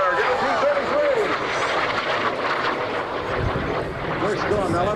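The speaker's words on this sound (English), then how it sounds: "back with us once again, Rick Iberg, T-33" A Lockheed T-33 jet airplane flies at a warbirds airshow, its engine drone rising and falling with wind buffeting, under an announcer's loudspeaker commentary.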